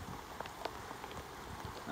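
Heavy rain hisses steadily throughout a boatyard, with scattered drops pattering on a hard surface nearby; no one speaks.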